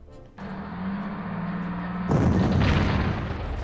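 Artillery fire in the World War II strategy game Panzer Corps, Afrika Korps campaign: a low whooshing rise followed by a loud, heavy boom that rolls on as a sustained rumble, with no voices.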